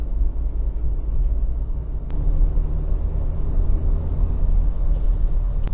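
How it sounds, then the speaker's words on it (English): Steady low road rumble of a vehicle cruising past trucks on National Highway 44 near Bangalore, with a constant drone and a few faint passing thumps. "Just cruising through these trucks."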